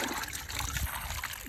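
Water trickles and splashes from a squeezed sponge into a drywall mud pan, a close, brief burbling dribble heard alone.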